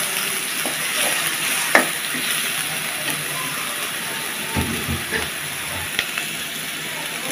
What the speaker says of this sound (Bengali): রসুন কুচি দিয়ে দিলাম, একটু ভেজে নিলাম, আদা বাটা দিয়ে দিলাম